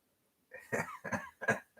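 Three harsh, close coughs in quick succession after a brief silence, each a short throaty burst.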